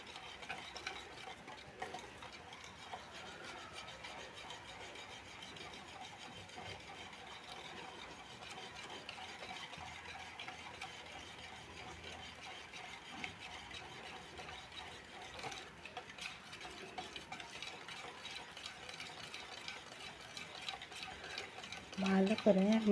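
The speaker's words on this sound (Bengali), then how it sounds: "ভালো করে মিক্স করতে হবে।" A pudding mixture of milk, eggs, sugar and vanilla being stirred in a bowl, with a soft, steady run of light clinks and scrapes that continues evenly throughout and grows slightly louder at the very end.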